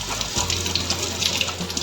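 Water poured onto dry ice from a birthday cake box gives a steady, close bubbling and fizzing gush under a low hum.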